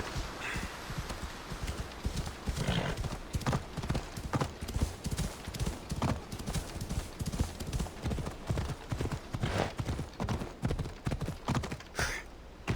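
Galloping horse hooves while riding in Assassin's Creed Odyssey, a steady rapid clip-clop close and loud throughout, with an occasional whinny and a brief voice near the end.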